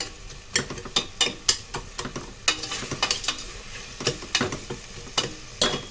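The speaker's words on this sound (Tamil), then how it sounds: "இப்போ இது கொஞ்சம் வதங்கட்டும்." Ingredients for nombu kanji sauté in a pan with a soft sizzle under irregular scraping and clacking of a stirring spoon, close and moderately loud.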